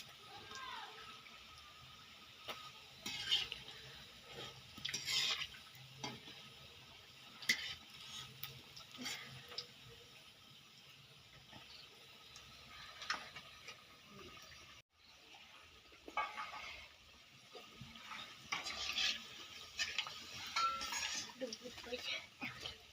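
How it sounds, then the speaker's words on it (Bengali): Cabbage pakoras bubbling in hot oil, a faint, steady sizzle broken by occasional utensil clinks and scrapes, with no talking. "এরকম করে লাল লাল করে একটু ভেজে নিই।"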